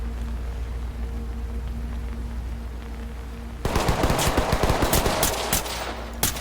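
Gunfire in the tactical shooter Ready or Not, set at a port: after a few seconds of low ambient hum, a sudden burst of rapid automatic shots rattles through, closely spaced and loud, with a final isolated shot.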